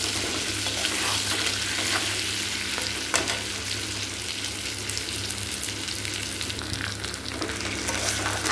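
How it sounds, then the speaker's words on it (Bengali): Potato pieces fry in a pan of hot oil with turmeric added, giving a steady, close, continuous sizzle with occasional stirring scrapes and no talking. "এখন হলুদ দিয়ে দিয়েছি, শুধু একটু আলুটা ভাজা ভাজা হয়ে যায়।"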